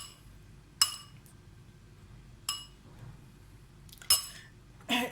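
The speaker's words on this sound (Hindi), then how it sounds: "इसको मैं अच्छी तरह से मिक्स कर रही हूँ।" A metal spoon clinking against a bowl while mixing nihari masala spices, with four sharp, bright clinks at irregular intervals over a quiet background rumble. No speech is heard.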